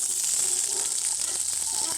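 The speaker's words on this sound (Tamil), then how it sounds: "இப்போ நம்ம தக்காளி ஆட் பண்ணிக்கலாம்." Tomatoes tipped into sautéed onions for chicken dum biryani, giving a steady, close frying hiss that fills the whole two seconds with small crackles through it.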